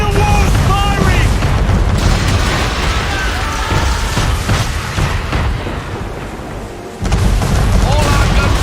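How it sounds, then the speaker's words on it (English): Cannon fire from a man-of-war warship in Assassin's Creed III, a loud, continuous roar of heavy booms and crashing blasts with brief shouted voices over it. It dips for a moment, then a fresh burst comes back. "Man of war's firing!"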